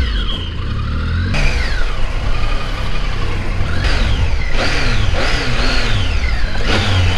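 A motorcycle arrives and its engine revs repeatedly, each rise in pitch followed by a fall. The revs sound loud and close over a constant rumbling background.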